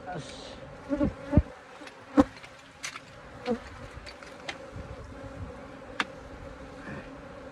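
Honey bees buzz steadily around a Flow Hive during an inspection, a dense droning hum marked by occasional louder passes and sharp clicks close to the microphone.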